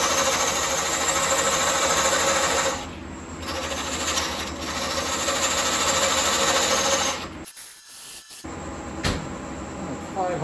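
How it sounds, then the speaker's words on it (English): Power tool cutting a plunge cut into wood, a steady loud whirring grind that runs for about seven seconds, drops out briefly, then resumes with a short sharp hit near the end. "So I'm going to make a plunge cut"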